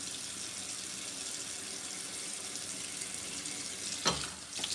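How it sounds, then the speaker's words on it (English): Steady hiss of water running from a tap at a bathroom sink during face washing, continuous and moderately quiet, with a couple of brief splashes near the end. "I have to wash my face."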